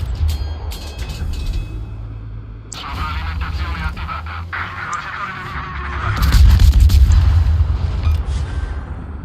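Heavy naval guns boom in World of Warships, with deep low rumbles and a dense burst of loud firing around the middle to late stretch, layered over constant engine hum and battle noise while people talk.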